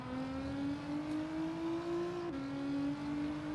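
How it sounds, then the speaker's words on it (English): Steady car engine drone in Gran Turismo 7, holding a strong rising tone with a brief dip near the middle as if shifting, loud and continuous with no talk. "this engine sounds fantastic"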